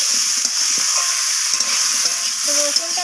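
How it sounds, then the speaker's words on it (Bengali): Garlic paste sautéing in hot oil with small shrimp and Malabar spinach, a loud steady sizzle and hiss close by, with repeated scraping and clinking of a spatula stirring the pan. "তো রসুনটাকে দিয়ে আমি আবারও এইভাবে কষিয়ে নিচ্ছি।"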